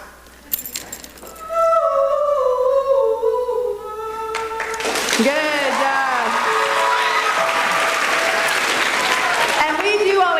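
A lone singing voice holds a few sliding notes for several seconds, then an audience at a fall choral informance bursts into loud, steady applause mixed with whoops and cheers that continue close and full to the end.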